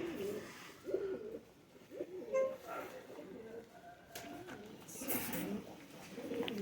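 Pigeons coo softly in a loft in Pakistan, a few low murmuring calls rising and falling near the listener, with quiet human talk underneath.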